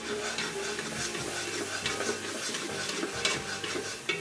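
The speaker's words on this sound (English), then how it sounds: "go ahead and add in 1/4 cup of flour, and then give it a good stir" Flour is stirred into tender onions in a pot to make a roux for chicken stew, a continuous scraping and sizzling with a rhythmic clack of the spoon against the pan.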